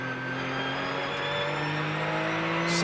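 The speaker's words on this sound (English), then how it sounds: "that is the sound of Tequila's Porsche engine as he heads down towards Canada Corner" A Porsche race car engine at the 2011 Road America ALMS race hums steadily at a distance, a sustained mechanical drone at moderate volume with no talking.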